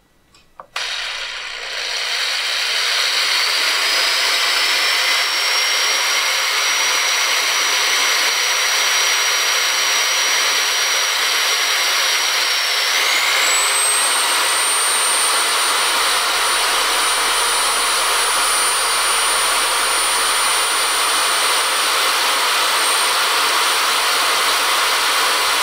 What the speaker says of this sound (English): So first we're going to drill through the case